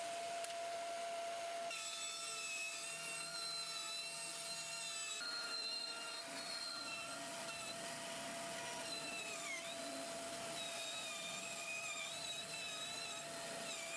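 Bandsaw cutting a circle from plywood, a steady continuous whine and whir from start to finish with the pitch shifting slightly as the blade works through the wood, close up and without talk.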